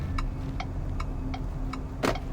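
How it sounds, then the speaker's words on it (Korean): A KGM Actyon Hybrid's turn signal, in its Trendy sound setting, ticks at a steady, even pace, about five crisp clicks in a row over a low engine hum, with a louder knock near the end. "트렌드에서 깜빡이 키면"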